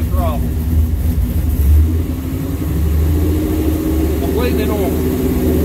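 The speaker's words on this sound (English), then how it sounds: "watch what happens when I give it just a little bit of throttle." Ford V8 in a Mustang or F-150 running a ghost cam tune, a deep lumpy idle that lifts into a short throttle blip and settles back, loud and close, with a voice briefly speaking over it.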